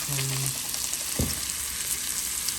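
Hashbrowns seasoned with paprika fry in a hot pan, giving a steady broad sizzle throughout with one brief low thump partway through.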